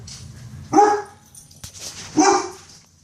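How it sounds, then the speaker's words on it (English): A dog barks twice, close and loud, with about a second and a half between barks. "3 days of barking at the barbecue pit."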